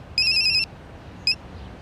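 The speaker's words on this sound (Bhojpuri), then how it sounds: "अरे फोन आइल बा, उठाई" A telephone rings with an electronic ringtone: one longer burst followed by a short second chirp, fairly clear over quiet background noise, with no one talking.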